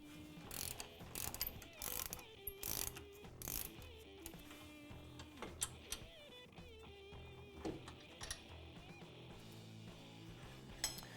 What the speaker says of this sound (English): we can remove the caliper by removing these two fasteners. We're using a 15mm socket with driver.